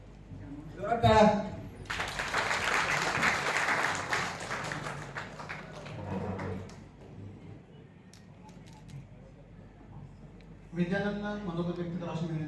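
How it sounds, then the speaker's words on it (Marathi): Sustained audience clapping at a training program's prize distribution event swells up for several seconds, then fades, with a voice talking briefly before and after. "जोरात टाळ्या."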